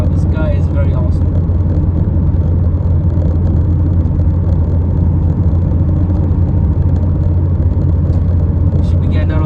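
A 2015 Ford Fiesta ST pulls in fifth gear, a loud, steady low engine drone and road rumble from inside the cabin, with the driver talking over it.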